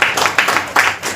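Audience clapping in an auditorium at an International Nurses Day celebration, welcoming a guest to her seat; a short burst of applause, fairly loud and close, with no talk over it.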